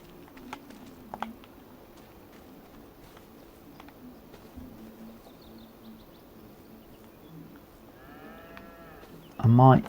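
Cattle in Farming Simulator 25, about fifteen cows at a feed bale, give faint scattered lows under a low ambient farm bed, ending in a sudden louder burst at the close; a voice talks quietly in places.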